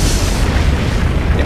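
Land breaking apart in the Aquaria video game, a dense, loud rumbling roar that fills the whole short stretch without pause.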